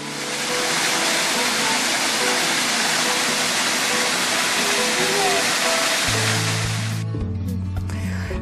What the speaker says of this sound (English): right across the street from the grocery store is this local waterfalls